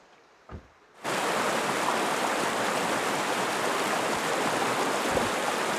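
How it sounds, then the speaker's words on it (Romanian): Cold mountain spring water streaming steadily as a loud, continuous broadband rush, close by, starting abruptly after a brief quiet moment with a faint sound and continuing without pause. "am ajuns la munte, la apă rece de izvor"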